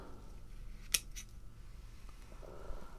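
Pruning shears snip dead stems off a garden plant, giving one sharp close cut near the start with a faint follow-up click, over quiet outdoor background.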